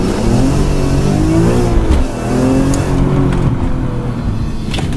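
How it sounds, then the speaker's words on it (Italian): A BMW M3 E46 engine revs near 3500 rpm, a loud, close, rasping intake-and-engine bray that holds steady, dips briefly and climbs again, with no talk over it. "uno strano raglio che viene un po' dall'aspirazione, un po' dal motore"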